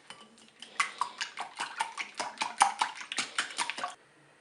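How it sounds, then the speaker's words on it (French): Eggs beaten in a bowl with quick, steady clinks of a whisk or fork against the side for about four seconds, close and moderately loud, with no talking. "je bats mes œufs"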